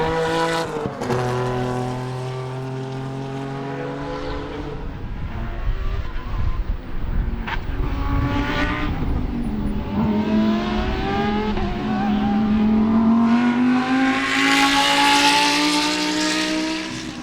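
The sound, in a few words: Sebring GT and Spec Corvette race cars racing on track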